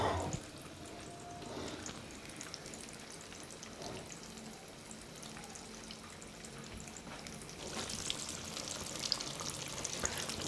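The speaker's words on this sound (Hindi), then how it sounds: "कोफ्तों के साइड चेंज करें ताकि ये दोनों साइड से अच्छी तरह फ्राई हो जाए।" Vegetable koftas frying in hot oil, giving a steady close sizzle and crackle throughout, with faint clinks of utensils and no talking.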